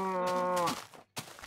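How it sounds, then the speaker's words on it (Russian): Minecraft cow giving a single loud, close moo in its older style, a rich harmonic call lasting under a second, then a short rustle after a brief pause. "О, еще звуки коров старые."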